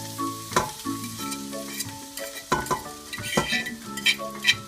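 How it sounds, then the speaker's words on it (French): Sliced shallots sizzle in melted butter in a pan, a close, crackling fry broken by clinks and scrapes from a stirring utensil against the pan, with no one speaking. "maintenant je vais rajouter les échalotes que j'ai émincées"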